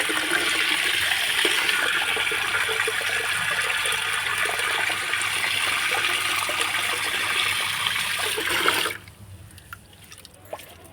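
Liquid fertilizer and pest treatment sprayed over plants from a sprayer, a steady, close hissing wash of spray running continuously for about nine seconds before cutting off abruptly into quiet.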